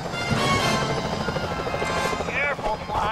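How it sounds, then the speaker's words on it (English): Security helicopters in the video game Sly Cooper: Thieves in Time, a close rotor chop and engine whine running steadily, with a voice and game effects layered over it. "Those security choppers are bad news!"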